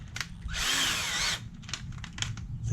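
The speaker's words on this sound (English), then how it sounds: "I have to drill out the dimple on each one of these." A power drill bores out the dimple in a small part for a homemade parts holder, a single steady whine lasting under a second, close and clear against a quiet room.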